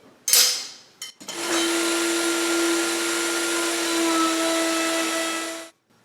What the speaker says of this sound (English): I have my center line marked and my center line lined up, and we're just going to route this groove